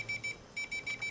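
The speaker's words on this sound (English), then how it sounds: "So that's the alarm." An alarm clock program on a Phi-3 Arduino shield sounds a quiet, high electronic beep, repeating in short evenly spaced pairs.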